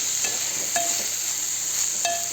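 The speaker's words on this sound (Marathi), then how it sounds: "मी पूर्ण हलवून घेते चांगलं व्यवस्थित असं हलवलं आहे आता याच्यात आपण छान म्हणजे परतलं आहे तुपावर" Grated carrot halwa sautéed in ghee, stirred in the pan: a steady sizzling hiss with a couple of sharp utensil clinks against the vessel, close and alone without speech.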